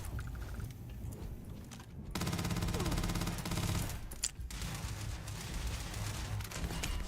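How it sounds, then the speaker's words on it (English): Sustained gunfire rolls through a Starfield shootout, dense bursts of weapon fire layered over a busy game soundscape, loud and continuous with a sharp crack near the middle. "Bro, I'm shooting you in the head."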